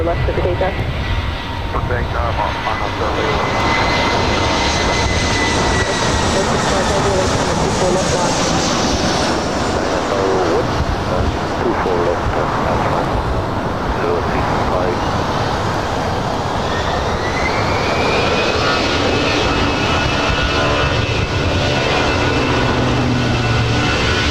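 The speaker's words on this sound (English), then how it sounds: "Another A319, A320, 319." Airbus A319 and A320 airliners at LAX airport, a loud, continuous jet roar that fills the whole stretch, with a rising engine whine swelling partway through as a plane passes close by.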